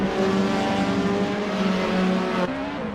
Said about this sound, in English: The roaring engines are echoing Nathan Vexler's battle cry